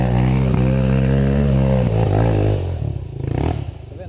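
A 450 dirt motorcycle on a trail runs close by, its engine note rising and falling in throaty revs before dropping to a rougher, lower idle with some clatter toward the end.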